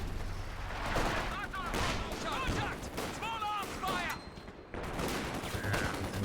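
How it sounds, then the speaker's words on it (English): Dense gunfire and explosive blasts in a 1v1 cup quarterfinal video game match, including grenade explosions, sustained and loud throughout under a commentator's excited talk. "And there's another grenade"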